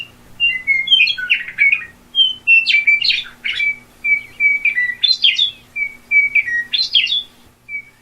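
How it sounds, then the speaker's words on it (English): A western meadowlark, the Kansas state bird, sings clear flutelike phrases outdoors, four bubbling, warbled songs repeated every couple of seconds, fairly close and alone. "those are the sounds of the western meadowlark bird"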